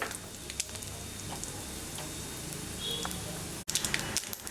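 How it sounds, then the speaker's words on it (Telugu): Mustard seeds, cumin and dried red chillies fry in hot oil for a tempering for coconut chutney, giving a steady close sizzle with scattered pops and crackles and one brief break near the end. "ఆయిల్ వేడెక్కినాక ఈ తాలింపు సామాన్లు ఆవాలు జీలకర్ర ఎండుమిర్చి ముందుగా వేసుకోవాలి"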